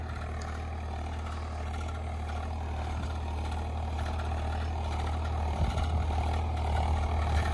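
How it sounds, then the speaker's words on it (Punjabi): A tractor pulls a 13-tine cultivator through a field in first high gear at about 1600 rpm. Its engine holds a steady, loud, low drone throughout, with a slight rise in roughness near the end, and no voices. "ਪਹਿਲਾ ਹਾਈ ਗੇਅਰ 1600 ਚੱਕਰ ਤੇ ਹੈ ਟਰੈਕਟਰ ਤੁਰਨ ਲੱਗਿਆ 100 200 ਚੱਕਰ ਡ੍ਰੌਪ ਕਰਦਾ ਹੈ"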